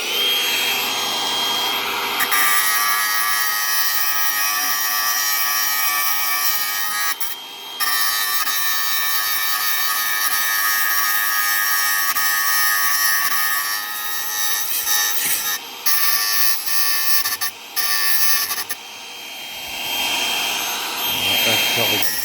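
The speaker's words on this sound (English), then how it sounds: "Hit it with an angle grinder," An angle grinder cuts into the copper and brass windings of a microwave oven transformer, a loud, continuous high whine with brief dips and cutoffs as the disc bites and lifts off the metal.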